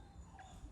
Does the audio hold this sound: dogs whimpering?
yes